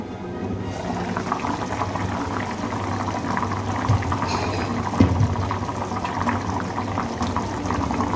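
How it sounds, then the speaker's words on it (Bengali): Rohu fish curry broth with drumsticks and potatoes simmering in a pot, a steady close bubbling and burbling that runs evenly throughout, with no one speaking. "পাঁচ মিনিট ধরে আমি ঝোলটা ফুটিয়ে নিয়েছি"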